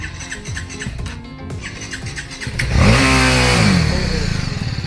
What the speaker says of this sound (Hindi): और ये अजय मामा BMW बाइक चलाते हुए पहला आगे है, बाकी सब ऊपर।